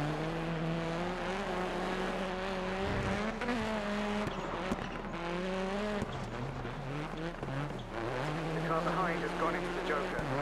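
Rally car engines roar and whine in the Dirt Rally video game, a sustained, loud revving with shifting pitch and sharp gear changes, with someone commenting over the racing.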